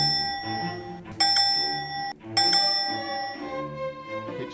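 Bells ring with clear, sustained metallic tones, striking again in two sharp repeats partway through, with a steady tonal pattern underneath and no talking.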